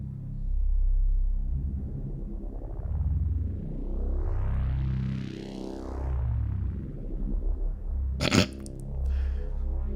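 An Omnisphere 3 synth runs a polyphonic frequency shifter modulated by aftertouch, producing deep, growling tones with rising and falling sweeping glides and a sharp, bright burst near the end; the sounds are loud and close, with no talking.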